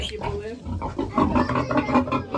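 Piglets grunt and squeal close by in a busy, overlapping jumble while suckling, as a person talks over them.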